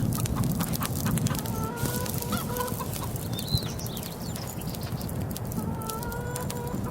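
A flock of chickens on a Farming Simulator 22 farm clucks and chatters continuously, with scattered short calls over a constant outdoor background.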